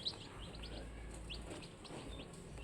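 Newly hatched day-old chicks of the Goldenboy breed peep in quick, high chirps, several overlapping softly over a low background hum.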